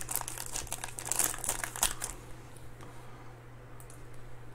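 Foil wrapper of a 2019 Panini XR football card pack crinkling and tearing open close up, a busy burst of crackles for about two seconds before settling into quiet room tone with a steady low hum.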